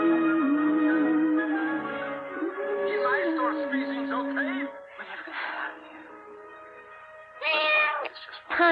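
A cat meows repeatedly and insistently, long drawn-out wailing cries with rising and falling pitch, close and loud, ending in a couple of shorter sharp meows.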